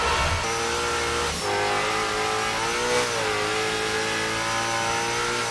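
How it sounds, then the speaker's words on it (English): Ken Block's Mustang, a 1400-horsepower drift car, revs hard while sliding sideways, its engine note loud and sustained with rising and falling pitch swings, no voices. "this guy's literally driving sideways"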